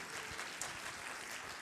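An audience claps in a cinema hall at a film premiere, a dense, steady patter of many hands, moderately distant and even in level throughout.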